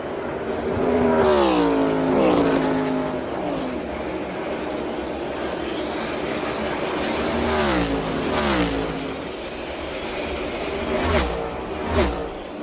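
NASCAR stock cars on the last lap at Pocono Raceway roar past one after another, loud engine notes sweeping down in pitch with each pass, under a constant crowd and track wash.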